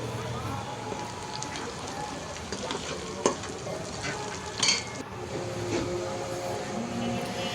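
Meat frying in a pan with spices and green chillies while being stirred, a continuous sizzle with scraping stirs and a few sharper clatters, close by and moderately loud.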